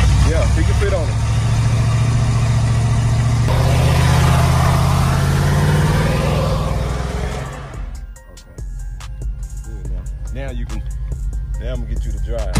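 A car engine revs hard during a burnout, a loud sustained roar that swells and then drops away, with people talking over it and tire noise and clatter following.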